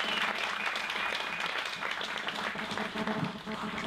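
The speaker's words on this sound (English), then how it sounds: "would you please give a great big round of applause to Ian K. Brown" Audience applause for a performer at a live show, a steady dense wash of clapping that fills the whole stretch without a break, with a little crowd noise mixed in.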